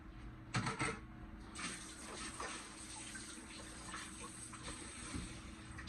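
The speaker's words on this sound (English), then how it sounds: "And we're going to wash our hands." Tap water runs steadily for handwashing in a home kitchen during cooking, a continuous broadband rush with no talking.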